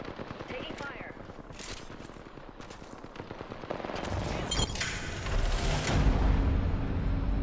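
Rapid bursts of gunfire in a video game, sharp shots spaced unevenly and growing heavier and louder toward the end, with voices speaking between them.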